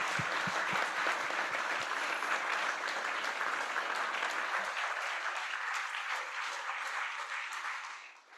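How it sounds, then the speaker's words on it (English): An audience applauds at a community enterprise fair, with dense, even clapping that carries on steadily and then fades out near the end. "I just want to give a huge round of applause to you guys for making this happen."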